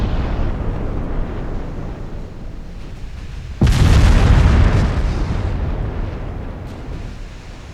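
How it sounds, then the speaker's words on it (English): An ammunition detonation rips through a warship in the naval game Ultimate Admiral Dreadnoughts: a sudden, loud, deep blast bursts out midway over ongoing gunfire rumble, then rolls and slowly decays. "Is that an ammo detonation on Leipzig?"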